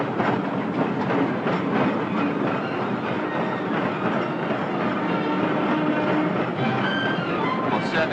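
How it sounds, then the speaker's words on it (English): Long-distance steam trains pulling into London Waterloo Station in 1939, a continuous loud rumble of rolling stock with rhythmic wheel clatter over rail joints, steady throughout with a brief squeal-like tone late on. "long-distance steam trains are arriving from the west of England"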